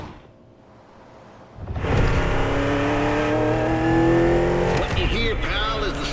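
NASCAR stock car engines in The Crew Motorfest racing game on PS5 Pro: quiet at first, then a pack of engines suddenly roars in loud and close, holding a steady revving drone with brief tire squeal near the end, under a man's speech.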